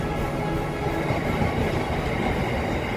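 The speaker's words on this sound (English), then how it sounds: "So that's being hauled by an old Yeoman Class 59." Freight train hauled by an old Yeoman Class 59 diesel locomotive, probably carrying aggregate, rumbling past close by as a loud continuous roar of wheels and wagons on the rails.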